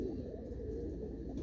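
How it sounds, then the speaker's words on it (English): Janssen racing pigeons coo in a low continuous murmur, a steady throaty rumble from close by that fills the whole stretch with no talk over it. "just to show you these two pigeons"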